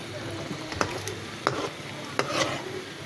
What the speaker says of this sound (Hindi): यहाँ पे जो पकोड़े हैं ना मैं फ्राई कर रही हूँ।